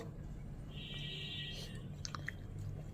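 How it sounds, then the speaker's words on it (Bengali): A child chews food at close range, soft wet mouth sounds over a low steady background hum, with a faint whispery voice in the background. "ভালো করে চিবিয়ে খাও"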